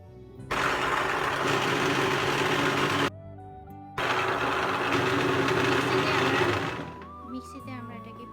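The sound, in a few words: electric mixer grinding mint, coriander, green mango and chilli chutney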